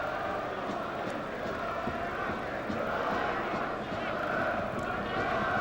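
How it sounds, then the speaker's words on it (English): A large football crowd at a Nantes stadium makes a steady, broad roar that rises and falls slightly, like a distant mass of voices filling the stands. "Certainly the crowd are a touch quieter now"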